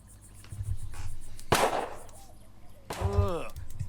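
Gunfire in a video game: two loud sharp cracks about a second and a half apart, with fainter pops and a ringing sweep after the second shot.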